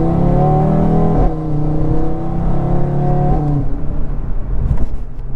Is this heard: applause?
no